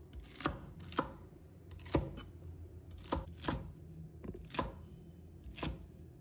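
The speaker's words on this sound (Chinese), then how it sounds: "再改刀切成小段" Knife chops celery into short pieces on a board, about ten crisp close thuds in irregular pairs and singles over quiet background, no talk.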